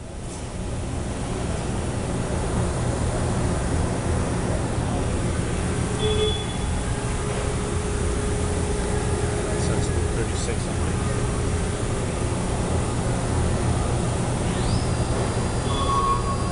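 An Okuma MB-5000H horizontal machining center spindle runs at 3,000 RPM, a steady, loud mechanical drone that holds unchanged throughout with a few faint tones drifting in and out.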